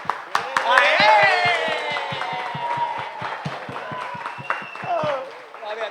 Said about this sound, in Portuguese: vamos dizer parabéns com ele com mais uma salva de palmas